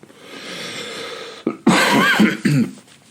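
A person coughs several times in a rough, harsh burst after a stretch of quiet background hiss, close to the listener.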